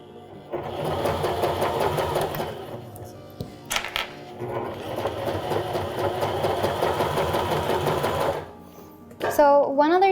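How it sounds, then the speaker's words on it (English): A Baby Lock sewing machine with a Teflon foot stitches through cork fabric, running in two long, steady stretches of rapid mechanical whirring separated by a brief stop. "doing some stitching with the Teflon foot and how smooth this foot is"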